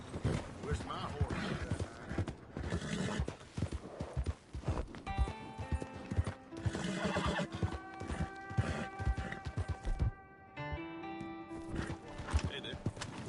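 Horse in the game Red Dead Redemption 2 clip-clopping with steady hoofbeats and letting out neighs and whinnies, mixed with mechanical game sounds and voices talking.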